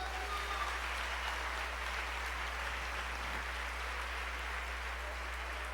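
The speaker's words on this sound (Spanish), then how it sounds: "Dale un aplauso al Señor." Steady applause from a church congregation during a Spanish-language sermon, a dense even wash of clapping like rain that holds for several seconds under a constant low hum.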